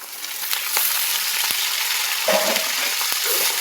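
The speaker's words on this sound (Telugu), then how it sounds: "చిన్న చిన్న కట్ చేసి పెట్టుకున్న పాలకూర అనేది దీంట్లో యాడ్ చేసుకుందాం" Chopped spinach drops into a hot pan for a spinach-potato curry, giving a steady, close sizzle with scattered clicks and scrapes of stirring throughout.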